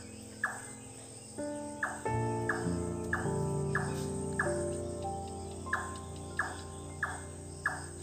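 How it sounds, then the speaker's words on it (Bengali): An unfamiliar bird calls outdoors in short, bright, repeated chirps at a steady rhythm, with a continuous buzzing drone of insects beneath and a low hum in the background. "কি অদ্ভুত পাখি। আর ডাক শুনুন"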